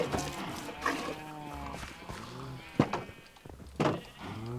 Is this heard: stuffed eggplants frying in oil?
no